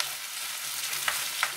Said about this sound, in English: all you do is add the basil in at the end. I'm used to cooking this in the big wok.